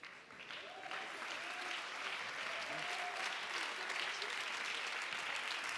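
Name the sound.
audience applause for winning cities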